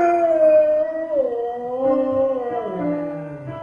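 A basset hound at an Arizona rescue lets out one long, loud, wavering howl that rises and falls in pitch, close by and alone, with no voices.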